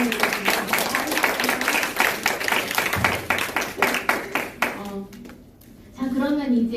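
A children's Sunday worship group claps for a fourth-grade child. The claps are distinct and rhythmic, then thin out and stop, and an adult voice starts speaking afterward.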